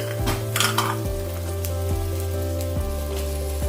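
Green beans, peas, pigeon peas, potato and capsicum tipped into a sizzling onion-tomato tempering for pulao, with a clattering drop and spoon scrapes over steady frying hiss, and tonal music running underneath.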